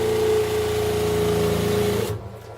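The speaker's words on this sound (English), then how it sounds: "That noise you hear is the freshwater pump down there" A freshwater pump runs in a boat engine room alongside Cummins diesel engines, giving a steady mechanical hum with a sustained whine that cuts off abruptly near the end.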